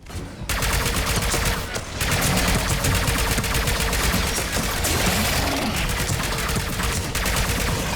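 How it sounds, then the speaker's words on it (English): Dense, continuous battle gunfire from a Mass Effect 3 video game fight, sustained bursts of automatic weapons and rapid shots layered loudly and nearly without pause throughout. "Foxtrot and Bravo are taking heavy fire."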